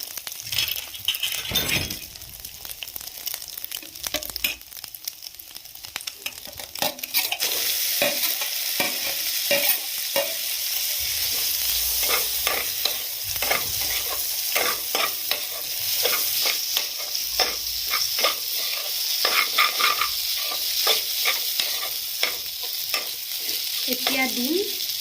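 Maggi noodles and pre-fried chicken stirred together in a hot pan, a constant sizzle broken by frequent sharp scrapes and clinks of the utensil against the pan, close and fairly loud, with no speech.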